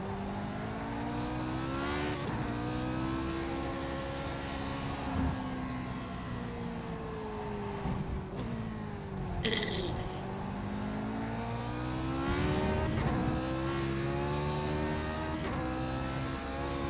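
A Lotus 49 race car at Motegi in the iRacing sim, its engine howling loud and close for the whole stretch, pitch climbing and dropping through repeated gear changes and corners with a brief blip near the middle.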